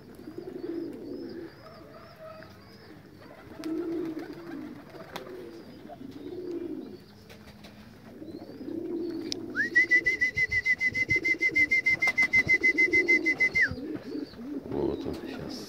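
Homing pigeons coo in low, soft rounded calls that repeat at intervals, with a steady high-pitched electronic beep sounding for a few seconds partway through.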